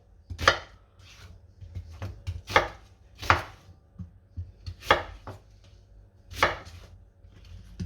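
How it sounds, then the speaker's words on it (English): Peeled vegetables and onions are chopped into big pieces on a board, with sharp knife thuds landing in an uneven rhythm, close and clear, without any talking. "you peel and wash all the vegetables, and you just cut them like this in big pieces. The onions, you cut them in 4"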